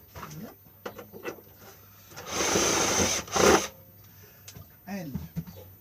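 Electric drill boring holes through a tool box during a quick repair, a loud buzzing whir lasting about a second and a half followed by a brief second burst, with quiet tapping and handling noises around it.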